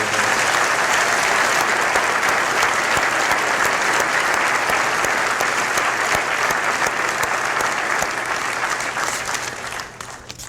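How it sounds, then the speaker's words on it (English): A large commencement crowd applauds the graduating 2018 School of Dentistry class, sustained dense clapping mixed with crowd noise that stays loud for nearly ten seconds before tapering off at the end. "Ladies and gentlemen, one more round of applause for the 2018 class of"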